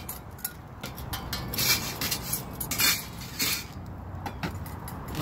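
Ceramic plates clatter and clink against one another and against cutlery in a home kitchen, in quick, uneven knocks at close range with no talking.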